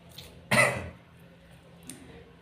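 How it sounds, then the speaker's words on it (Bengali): A single harsh, heavy cough bursts out loudly and close, then fades into quiet, with a faint throat-clearing sound a moment later. "প্রচণ্ড কাশি"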